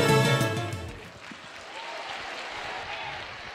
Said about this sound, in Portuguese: Vamos aplaudir nosso Pai.